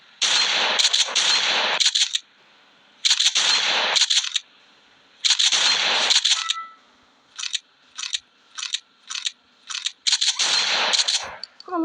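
Bursts of rapid video game gunfire shooting at a vehicle's tyres crackle in short rhythmic volleys separated by pauses, some sustained, others clipped single shots, in Grand Theft Auto V.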